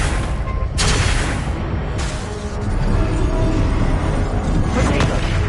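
Fiery spell bursts from the Incendio charm in Hogwarts Legacy, a dense roaring whoosh with sharp bangs near the start and middle, loud and continuous over rumbling game background.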